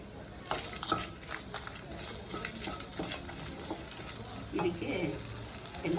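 Dried red chillies fry in a pan for a chutney, with a close, steady sizzle broken by repeated scraping and clinking of a spoon stirring against the metal.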